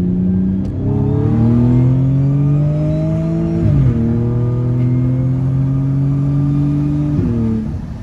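An Audi S5 V6T coupé accelerates hard through a long, smooth rising engine note that pauses briefly at gear changes and then climbs again, loud and close from the cabin, with no talking.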